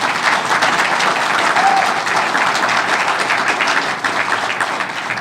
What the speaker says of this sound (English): Give everybody a round of applause here.